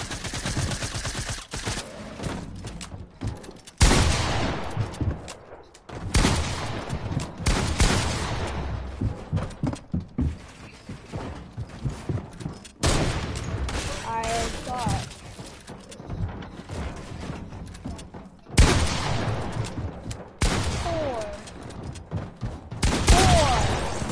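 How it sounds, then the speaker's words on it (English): Shotgun blasts in a Fortnite match, sharp loud reports scattered among rapid gunfire from several directions, close and punchy, with a player talking over the action. "Every time I shoot my shotgun"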